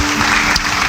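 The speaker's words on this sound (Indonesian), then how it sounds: "Beri tepuk tangan yang meriah bagi dia." A church congregation bursts into loud, sustained applause, a dense wash of clapping that fills the whole moment without a break.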